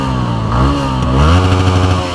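A Yamaha R15 V3 sport motorcycle engine revs up close and loud, its pitch climbing and falling through a couple of throttle blips with a steady mechanical clatter and no talking.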